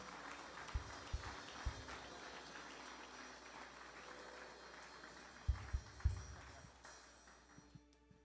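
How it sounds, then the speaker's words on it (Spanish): A church congregation applauds during a Spanish-language service, a continuous wash of clapping from a crowd with a few louder nearby claps standing out, fading away at the end. "Dele un aplauso al Señor."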